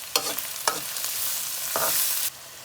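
Chopped onion with a pinch of salt fries in a very hot pan, giving a bright, close sizzle with a few quick spatula scrapes across the surface.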